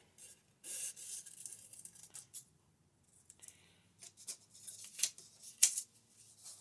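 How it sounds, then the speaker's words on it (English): Scissors roughly cut circles from scraps of colored paper, giving close, quiet snips and rustles in uneven bursts with a short pause in the middle. "I'm just going to take a pair of scissors and really roughly cut 3 different size circles"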